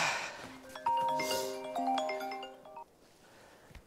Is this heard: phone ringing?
yes